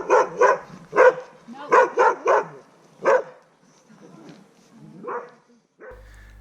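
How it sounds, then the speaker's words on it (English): Dogs bark in bursts on a cycling trip through Georgia, a close, loud string of sharp barks in quick groups, then a pause and a softer final bark. "we keep getting interrupted by dogs over and over again."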